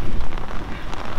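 Rain falls steadily as a dense, loud hiss of drops pattering on a surface nearby, with no pause or voices.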